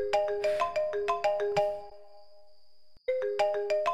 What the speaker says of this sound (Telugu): నీకేదో ఫోన్ వస్తున్నట్టు చూడు